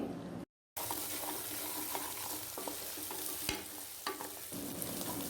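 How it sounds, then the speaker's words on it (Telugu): Ginger garlic paste fries with salt and turmeric for a mutton curry, giving a steady broadband sizzle with occasional spoon scrapes and clicks against the pan, briefly cut by a short silence near the start. "ఉప్పు పసుపు వేసి అల్లం వెల్లుల్లి పేస్ట్ పచ్చివాసన పోయే వరకు ఫ్రై చేయండి"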